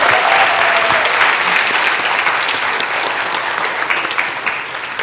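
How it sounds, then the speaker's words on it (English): Sustained applause from a graduation ceremony audience at a school in Nevis, loud and steady throughout with dense clapping and no clear talk over it. "Give her another round of applause,"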